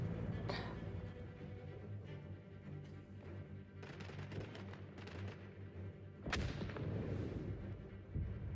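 Mortar fire in the World War I shooter Isonzo: repeated heavy booming blasts, some near and sharp, others more distant, over a continuous battlefield rumble.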